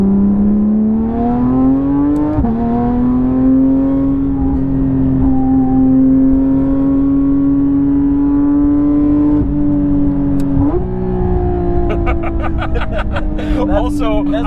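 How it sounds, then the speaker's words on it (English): A high-revving sports car engine, Mustang GTD or Porsche GT3RS, climbs through gears with a loud rising whine and sharp shift breaks, ending in rapid crackling pops; voices talk over it. "I'm not used to a high revving car anymore"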